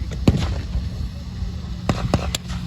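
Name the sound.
simulated artillery fire at WW2 battle reenactment, Tankfest 2024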